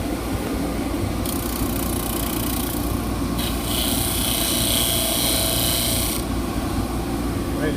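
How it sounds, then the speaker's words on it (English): A power sander smooths the wooden parts of a step stool with a loud, steady whir and rasp whose gritty top edge swells and drops as the pad moves across the surface. "Now the sander moves in a counterclockwise direction"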